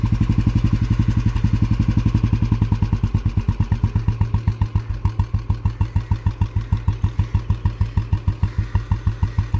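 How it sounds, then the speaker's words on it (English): A 1957 Royal Enfield Bullet 350 with magdynamo ignition idles fast, a loud, close single-cylinder thump pulsing in a quick steady rhythm throughout, with no talking. "Again, after changing some settings, you can see the idle is now fast."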